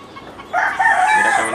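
Free-roaming hens and a rooster in a yard of gamecock-type chickens, with loud, close clucking and a crowing-like call that begins partway through and carries on to the end.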